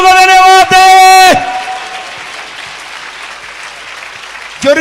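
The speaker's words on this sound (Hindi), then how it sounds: "ताली बजाकर प्रभु को धन्यवाद दे" Congregation at a Hindi-language church service clapping together to thank God, a dense burst of applause following a loud sustained musical or vocal passage that cuts off, with another tonal swell returning at the end.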